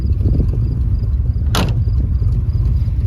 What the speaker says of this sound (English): It's straight piped, so it's loud.